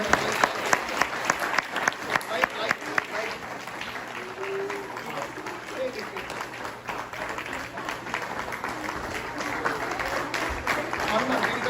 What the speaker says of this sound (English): Please give another round of applause to the challenge.